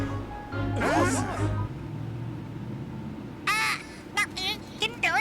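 A bird caws several times in short bursts in the video game Layton's Mystery Journey, loud and close, following a stretch of character voice and low background music.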